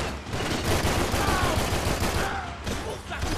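Dense, continuous gunfire from laser weapons in Max Payne 3, a steady loud barrage of rapid shots with a faint voice underneath.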